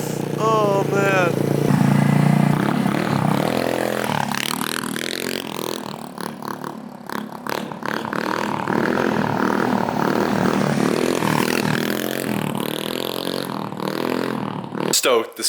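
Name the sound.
rebuilt 150cc GY6 swapped scooter engine running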